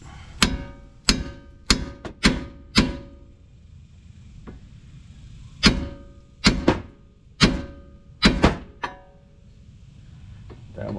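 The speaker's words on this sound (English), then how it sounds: "hit it with a hammer" Sharp metallic hammer blows on a tie rod nut of a 2009 Ford Fusion ring out in quick clusters, several strikes in a row, a pause, then more rapid hits, loud and close.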